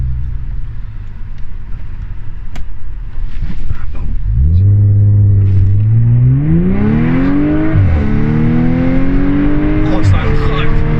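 An Audi S4 B8 quattro tuned to 427 hp launches with launch control. A loud, held engine drone climbs sharply into a rising rev as the car pulls away and the pitch sweeps upward through the gears, close and continuous.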